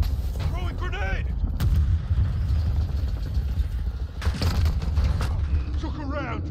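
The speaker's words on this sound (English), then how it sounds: "Request an airstrike at this location." Airstrike explosions in Call of Duty Modern Warfare 2 during a team deathmatch, heavy booming blasts and gunfire rumbling loudly over a dense battle din, with radio-style voices speaking briefly.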